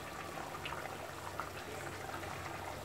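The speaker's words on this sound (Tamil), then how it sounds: "குழம்பு நல்லா கொதிச்சிருச்சு." Vegetable kurma gravy simmers in a pot, giving a steady, close bubbling hiss with soft pops throughout and no voices.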